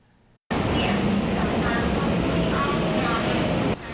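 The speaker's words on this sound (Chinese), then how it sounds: "台铁上新的900型电联车慢慢入站，人客上车" A Taiwan Railways EMU900 electric commuter train rolls slowly into a station, a steady loud rumble and rail noise that starts abruptly and holds for several seconds before easing, with faint voices underneath.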